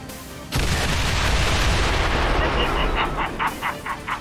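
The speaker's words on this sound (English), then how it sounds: "Give me a rocket barrage right here." Rocket barrage in XCOM 2: War of the Chosen, a loud rumbling wall of explosions that begins abruptly, followed by a run of rapid pulsing blasts toward the end.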